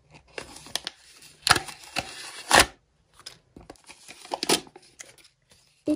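Paper packet of collectible stickers torn open by hand, with a few sharp rips and crinkling bursts separated by short pauses, close and fairly clear with no talking.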